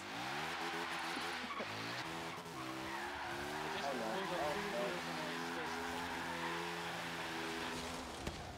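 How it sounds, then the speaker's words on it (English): Cars drifting in Forza Horizon 3, including three-wheelers like a Reliant Robin and a Morgan Three Wheeler, with sustained tire skids and revving engine tones that waver up and down, steady and fairly loud throughout, with voices mixed in. "This is the result when you try to drift all three of these."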